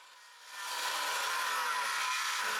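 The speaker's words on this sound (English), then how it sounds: "We start by cutting the tie beams." A power saw cuts wooden tie beams for cottage shelter trusses from 2x4 lumber, a hissing blade noise swelling after half a second and holding steady and fairly loud to the end.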